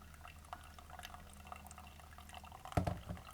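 Water is poured to dilute filter coffee, a faint trickle and dripping that builds to a brief, louder splash near the end, heard close and alone.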